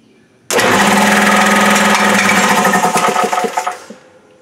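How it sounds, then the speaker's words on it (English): A Kobalt air compressor motor, wired directly, starts abruptly after a quiet moment and runs loud and close with a buzzing mechanical drone, then sputters and winds down near the end. "I'm going to flip the breaker just to make sure that the motor is working."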